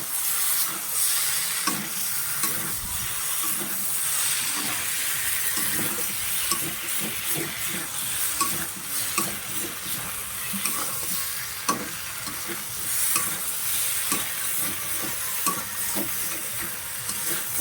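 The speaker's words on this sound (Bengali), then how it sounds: "এবার ভালো করে আবারও নাড়াচাড়া দিতে হবে" Vegetables for a fish, eggplant and potato curry fry in a pan, a steady close sizzle with repeated scraping and clattering stirs of a spatula at an uneven rhythm, with no talking.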